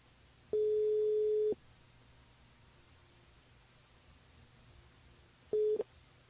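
A telephone line tone sounds during a call to a radio listener: one long steady beep, then silence, then a second shorter beep, clear over faint background noise.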